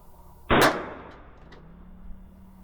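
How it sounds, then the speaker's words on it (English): A KelTec PMR 30 pistol firing a Remington round, heard as one sharp, loud shot close by, followed by a short fading ring and quiet outdoor background. "All right, 3 rounds with the Remington. Let's see where they go."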